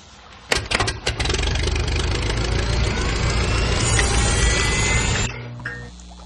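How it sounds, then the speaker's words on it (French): A homemade biogas pump starts with a few sputtering knocks, then settles into a steady, loud motor drone for several seconds before cutting off abruptly. "C'est pour cela que j'ai construit une pompe à biogaz."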